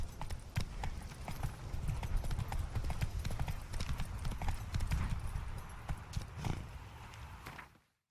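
Roach, a horse in The Witcher 3, gallops with quick, continuous hoofbeats close by, then the sound cuts away at the end.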